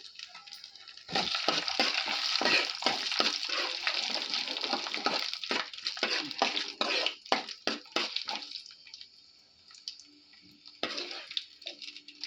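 Mustard seeds and curry leaves fry in hot oil for a vankaya vepudu brinjal dish, giving bursts of crackling and spitting sizzle that rise, pulse in rapid pops, then thin out toward the end.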